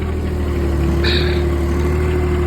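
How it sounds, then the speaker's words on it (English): A small John Deere diesel tractor, a souped-up lawnmower of about 24 horsepower, idling steadily and close by with a constant low hum and a brief higher squeak in the middle. "I got my big giant John Deere there running"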